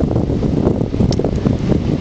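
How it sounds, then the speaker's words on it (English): Steady wind buffets a microphone aboard a boat at anchor, a loud, continuous low rumble with rustling gusts and no clear voices. "the wind is blowing us"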